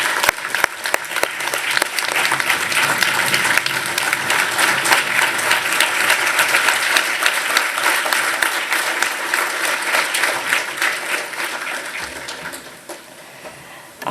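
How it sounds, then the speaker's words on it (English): An audience gives a warm, sustained round of applause for the chief guest, Professor Nageshwar, at a scientists' gathering: dense, loud clapping lasting about fourteen seconds before tapering off. "I request you all please join me in giving a warm round of applause for Professor Nageshwar."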